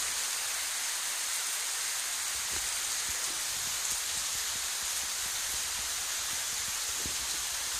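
Heavy rain falls during Hurricane Matthew at Disney's Animal Kingdom in Florida, a steady, loud, enveloping downpour with scattered drip taps and no talking.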